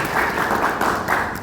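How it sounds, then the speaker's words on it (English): Applause from an event audience, a brief, even wash of many people clapping at moderate loudness, without voices over it. "Let's give him an applause."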